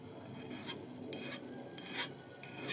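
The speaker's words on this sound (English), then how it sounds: "so actually I decided to just use a file" A hand file rasps across the soft metal part of a Starrett 98-8 machinist level in four distinct strokes, each a short gritty scrape, close and fairly quiet, with no talking.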